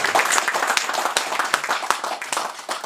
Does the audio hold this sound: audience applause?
yes